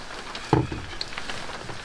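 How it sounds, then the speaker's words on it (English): Rain falls steadily on a lakeside camp at Södra Ösjon, Sweden, a soft even hiss with a single sharp knock near the start. "hide away from the rain"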